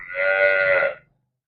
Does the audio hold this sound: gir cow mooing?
yes